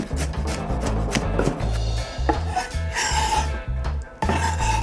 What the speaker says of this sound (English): Then we chop mushrooms.